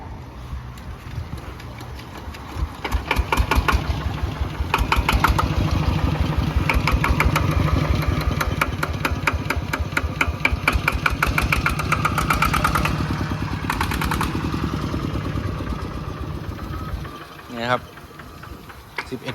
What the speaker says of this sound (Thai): เดี๋ยวไปฟังเสียงเครื่องดูครับ